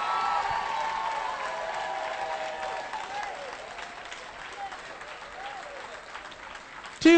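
Church congregation clapping and cheering together in steady, dense applause that holds strong and then slowly thins, with a brief louder burst at the very end.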